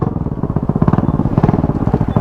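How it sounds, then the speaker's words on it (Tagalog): A motorcycle engine with a leaking exhaust putters close by in a fast, uneven chuffing rhythm, loud and rough with no talk over it. "Ang pangit ng tunog ng motor ko. Singaw."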